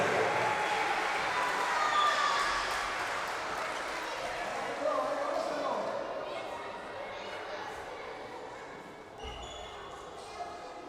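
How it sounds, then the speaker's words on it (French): Crowd applause at an outdoor pelota court in Biarritz as players return to play, a steady wash of clapping that fades gradually with murmuring voices and occasional ball sounds. "Les applaudissements de Bernard pour le retour en jeu des joueurs."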